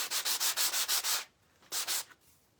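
Painted fabric scrubbed with a SurfPrep Rad Pad sanding pad, close rapid back-and-forth rasping strokes in a quick run of about eight, a pause, then two or three more.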